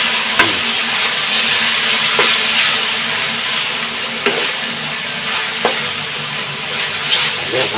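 Leftover sisig and Bicol express being stirred together in a hot pan, with a steady sizzle and frying hiss broken by periodic scraping clacks of the spatula.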